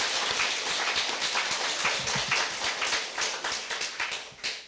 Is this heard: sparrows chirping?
no